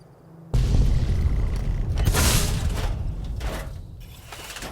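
A timed mini nuke goes off in Fallout: New Vegas, one loud, heavy explosive boom that erupts suddenly and then rumbles and crackles with debris as it slowly fades.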